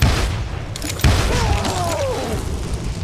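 A dynamite blast in the western shooter Call of Juarez Gunslinger: a sharp booming burst, a second heavy thump a moment later, then rumbling debris and a ringing tail, loud and close.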